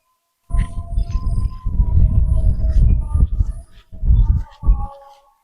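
Bird scarer in a drying village field, a cloth flapping in the wind with milk cans above it, gives irregular hollow clanking and rattling in bursts, close and fairly loud, with short pauses between.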